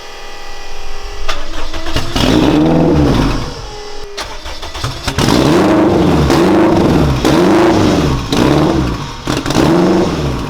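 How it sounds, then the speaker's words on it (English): A car engine in a boosted sleeper project car starts and revs hard several times, loud and close, with rhythmic rising-and-falling surges and brief idle dips between pulls, no talking. "You guys can hear his car let it rip real quick."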